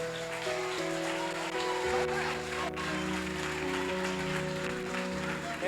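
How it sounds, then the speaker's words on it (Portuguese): A church congregation applauding during a sermon, a dense, sustained patter of many hands clapping at close range over steady sustained musical tones. "Aplauda Jesus."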